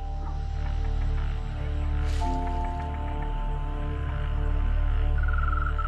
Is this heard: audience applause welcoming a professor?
no